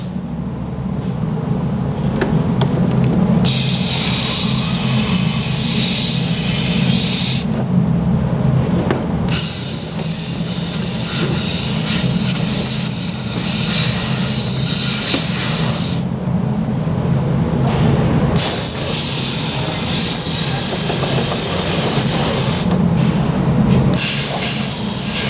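Mopar rust inhibitor sprays in a steady, loud hiss along a plastic panel on the underside of a vehicle, in long continuous bursts that pause briefly and resume.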